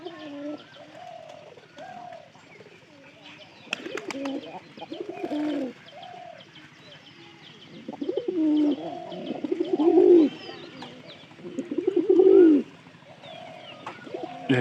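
Domestic pigeons kept in a home loft give soft, low repeated cooing calls in several bouts that grow louder toward the end, close by, with no talking over them.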